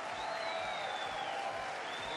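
An arena crowd at the Baku 2015 European Games taekwondo semifinal cheers and applauds as the president arrives, a steady, dense roar of many voices and clapping that fills the space without a break.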